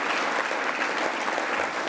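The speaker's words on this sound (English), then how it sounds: "Let's give another little round of applause for Dr." Healthcare conference audience applauding after a morning talk, a steady wash of many hands clapping at moderate volume, continuous and unbroken with no speech.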